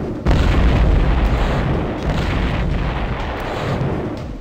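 A loud, close explosion in the video game Crusader: No Regret: one sudden blast followed by a heavy, rumbling roar that holds for several seconds and only slowly eases off. No voices.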